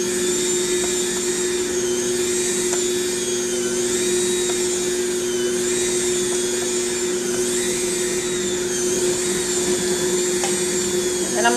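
An electric mixer churns sugar cookie dough in a home kitchen, giving a steady, close whine that keeps an even pitch and loudness throughout.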